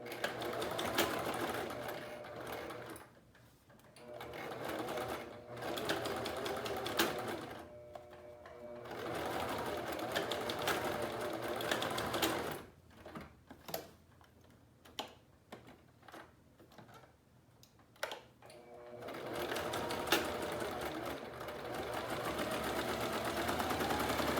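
A sewing machine sews and reverse-stitches the pleats of a pleated face mask. Long runs of close, loud motor whir give way midway to short, ticking bursts and then resume steadily.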